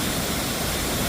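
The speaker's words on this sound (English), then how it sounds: "Okay, we're leaving 50-foot falls." The 50-foot waterfall at Havasupai roars as a steady, dense rush of falling water, close and loud throughout a brief moment, with no talking.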